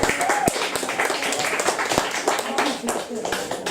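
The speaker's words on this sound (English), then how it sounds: "more applause please." An audience at a poetry open mic claps for a reader, a scattered burst of applause heard alongside a speaking voice.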